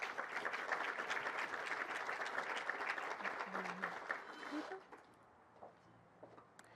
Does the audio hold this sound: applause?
yes